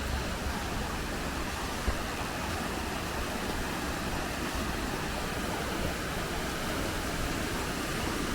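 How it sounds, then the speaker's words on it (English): A waterfall in the hills by Ullswater roars with a dense, steady broadband rush, close and constant for the whole stretch with no voices over it. "Oh, nice fall here, guys."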